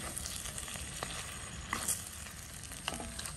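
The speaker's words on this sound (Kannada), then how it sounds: "ಚೆನ್ನಾಗಿ ಮಿಕ್ಸ್ ಮಾಡುವ. ಒಳ್ಳೆ ಕಲರ್ ಚೇಂಜ್ ಆಗಬೇಕು, ಅಷ್ಟರ ತನಕ ಇದನ್ನು ಫ್ರೈ ಮಾಡಬೇಕೀಗ." Chettinad chicken fry masala crackles in a pan with a faint, steady sizzle and a few light stirring clicks, close but quiet.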